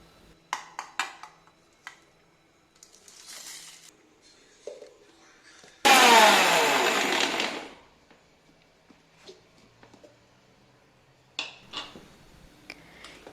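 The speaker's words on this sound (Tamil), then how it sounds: "இதை மிக்ஸி ஜாரில் போட்டு அரைச்சிடலாம்" A mixer grinder whirs loudly in one short burst lasting about two seconds, grinding cooled ingredients to powder for uppu mani kozhukattai, between quiet kitchen clinks and handling noises.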